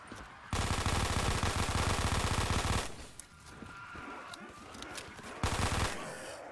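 Rapid machine gun fire in Black Ops 3 custom Zombies plays in two long loud bursts with quieter in-game sounds and scattered shots between them.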